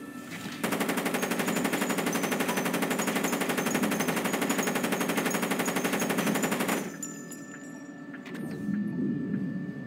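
A heat-sensing gun turret in the Splinter Cell video game fires a long, unbroken automatic stream at a thrown flare for about six seconds, then stops abruptly, leaving a faint mechanical hum.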